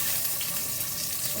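Pumpkin pieces frying in mustard oil: a steady, dense sizzling hiss, close and even throughout the brief moment.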